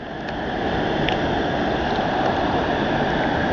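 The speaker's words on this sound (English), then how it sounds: "this whole thing is one massive waterfall" Loud, continuous roar of rushing water from Shoshone Falls heard up close, steady from start to finish with no voices.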